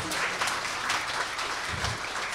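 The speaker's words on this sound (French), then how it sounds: "On vous applaudit, mesdames et messieurs." An audience at a live French-language podcast recording applauds, a fairly quiet, steady patter of clapping with faint voices mixed in.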